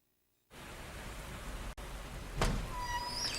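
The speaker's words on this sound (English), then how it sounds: "Then the rains came. A cleansing rain." Steady rain pours down in the Constantine video game, a dense even wash of noise that starts abruptly, briefly cuts out, then resumes with a sharp crack partway through.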